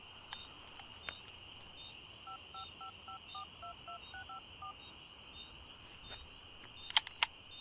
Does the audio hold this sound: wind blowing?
no